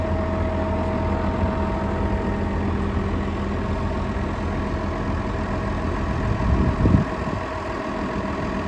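Electric motor running on a new saw, a steady droning hum at constant level with a brief louder swell near the end.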